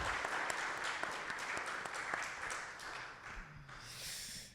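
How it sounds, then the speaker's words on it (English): A small audience claps after a discussion, soft and fairly distant, the applause fading over a few seconds. "let's give it a round of applause"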